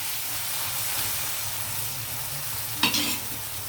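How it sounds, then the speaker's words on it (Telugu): Green chillies and curry leaves fry in oil in a pan for an Andhra-style chicken dish, a steady soft sizzle and hiss with one brief sharper crackle and stir near the end. "ఇప్పుడు మనం ఈ పచ్చిమిర్చి, కరివేపాకు వేసేద్దాం"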